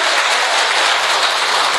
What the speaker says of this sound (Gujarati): એના માટે એકવાર જોરદાર તાળીઓ થઈ જાય મિત્રો.